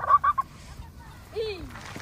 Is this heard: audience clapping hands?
no